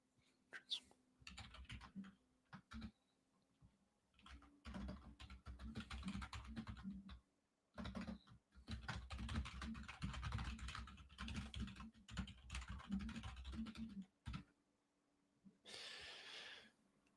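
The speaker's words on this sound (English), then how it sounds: "I'm typing something up." Close, quiet typing on a computer keyboard while a message is composed: long runs of rapid key clicks with short breaks, plus soft breathing or whispery murmurs now and then.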